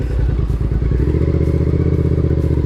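A motorcycle idles close by with a rumbling, pulsing engine while the clutch is pulled in and the bike is clicked down into first gear for a beginner ride, a brief clunk under the steady throb.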